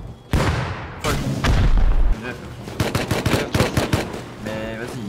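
Grenades explode in Rust, with a heavy boom followed by a rapid series of sharp blasts and gunfire bursts, close and loud, and a faint voice underneath.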